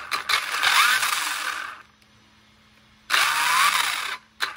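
A Kyosho Fazer Mk2 1/10 scale RC car with a brushless motor, a Mercedes GT3 body, whirs in two loud bursts with a steady high whine, separated by a quiet pause and followed by a brief final blip.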